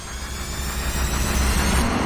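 A long rod racing engine with 6.800-inch connecting rods fires up and runs on a dyno, a loud, dense, rumbling roar that holds steady throughout.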